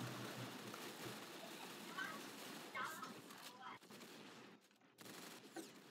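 Rapid gunfire from the Roblox game Arsenal, a dense crackle of automatic shots running nearly throughout, with children's voices chattering over it.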